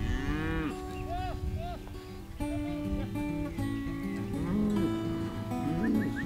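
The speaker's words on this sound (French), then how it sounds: "Donc les vaches, ils mangent ici et là" Scottish Highland cattle grazing on natural land, several animals lowing in long overlapping moos of varying pitch, fairly close and loud over a soft outdoor background.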